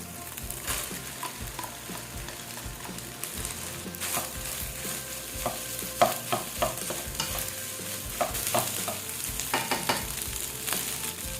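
Rice with squid balls is stir-fried in a pan, with a steady sizzle and repeated scraping clacks of the spatula at close range.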